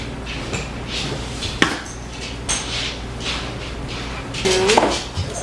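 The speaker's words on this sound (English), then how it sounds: "Stir that in very gently. As my bowl is really full now." Roughly eight cups of flour stirred gently into an overfull bowl of biscuit and pizza dough, giving soft continuous scraping and dull knocks of a utensil against the bowl in a steady, close, low-level rhythm.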